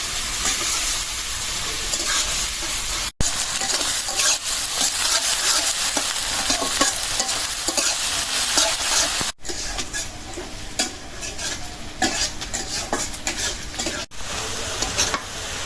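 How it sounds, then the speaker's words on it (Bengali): Onions frying in hot mustard oil until brown give a loud, steady sizzle and hiss close up, with frequent stirring scrapes and clinks of a utensil against the pan. "পেঁয়াজটা একদম বাদামি কালার করে ভেজে নিলাম তাহলে তরকারি বাসনা হয়"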